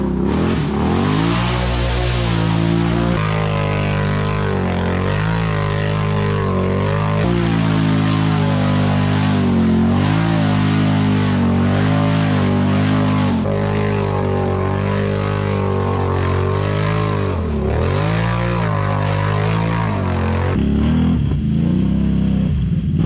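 Can-Am Renegade ATV engine held at full throttle through deep mud, a loud continuous roar with shifting pitch as revs rise and fall, close and steady for over twenty seconds with no talk.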